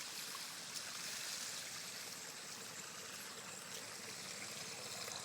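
A small stream of water trickling in a rural field, a faint, steady bright babble running continuously with no voices.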